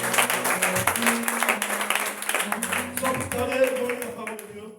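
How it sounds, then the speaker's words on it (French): A church congregation at a Sunday worship service applauds and cheers for Jesus, a dense wash of clapping and voices that holds steady across the whole stretch. "On acclame plus fort pour Jésus."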